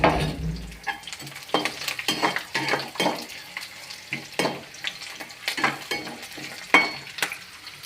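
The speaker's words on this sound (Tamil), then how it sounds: "அடுத்தது கடலப்பருப்பு போட்டுக்கலாம்" Chana dal hits a hot pan with already-fried green chilies and is stirred for a carrot poriyal, giving steady sizzling under repeated scraping strokes of a spoon against the pan.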